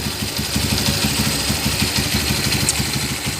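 A restored Honda GL 100 motorcycle engine fitted with a Mega Pro cylinder head, its exhaust leaking, idles up close with a steady, even rapid thumping pulse.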